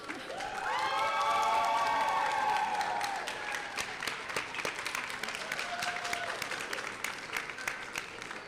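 A large audience at a Northwestern Health Sciences University white coat ceremony cheers and applauds, with whoops and shouts at first. Sustained clapping follows.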